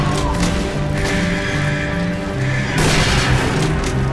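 Team Fortress 2 battle noise with dense overlapping gunfire and explosion booms, loud and continuous, with a music-like tonal layer running underneath.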